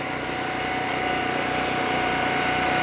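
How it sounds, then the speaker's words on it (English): A hydraulic log splitter's small engine runs steadily and loudly while splitting beech wood, a continuous high-pitched drone with a faint regular pulse and no speech. "This beech is splitting pretty easy"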